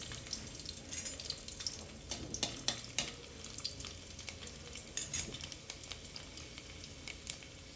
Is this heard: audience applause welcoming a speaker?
no